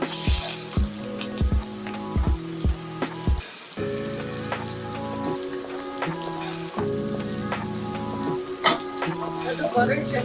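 Butter melting with olive oil in a hot pan for lobster pasta, a steady close sizzle and foaming crackle mixed with clinks and rhythmic tones, a voice talking at moments.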